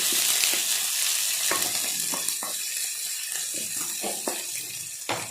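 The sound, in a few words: onion and cabbage frying in hot oil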